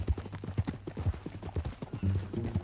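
Horse hooves clip-clopping in Red Dead Redemption 2 on PS4, a quick, even rhythm of distinct hoof strikes, fairly close, with a faint voice-like murmur toward the end.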